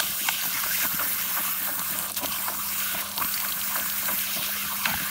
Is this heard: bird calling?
no